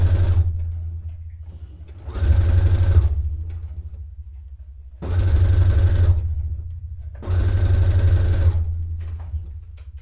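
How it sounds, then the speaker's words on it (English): An industrial sewing machine runs at high speed in three bursts of about a second each, separated by a lower motor hum. Each burst is a loud, rapid stitching clatter, and no one speaks. "I really like industrial sewing machines because they go super fast."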